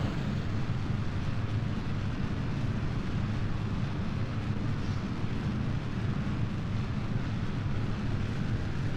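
A rocket launches at full throttle in Kerbal Space Program, giving off a steady, dense, broadband roar. The roar stays constant and unbroken throughout, with no voices over it.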